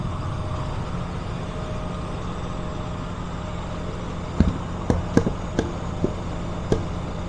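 A pickup truck cruises steadily down an interstate towing a front end loader on a trailer, a constant low engine and road rumble heard from inside the cab, with a few sharp clicks and knocks near the end.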